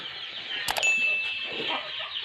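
Chickens clucking at a rural home, a brief cluck and squawk nearby with a faint metallic clang and some soft background noise.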